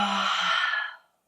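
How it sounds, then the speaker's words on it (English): A long audible sigh pushed out through the mouth during a yoga practice, close and breathy, fading over about a second before a short new breath begins. "Out through the mouth. Inhale. Sigh it out."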